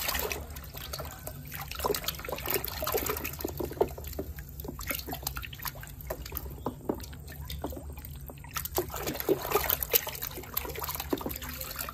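Water splashing and trickling over plastic toy trucks such as a sand truck, cement mixer, loader and garbage truck as they are washed, a steady close wet wash with scattered drips and sloshes.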